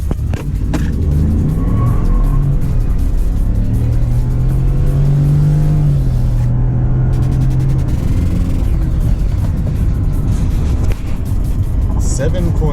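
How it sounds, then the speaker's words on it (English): A 2018 Ford F-150 with the 5.0-liter engine revs and pulls hard from a standstill, its deep engine note climbing steadily through the gears. People talk loudly inside the cab over the engine. "We're gonna try a 0 to 60 in the 5 liter"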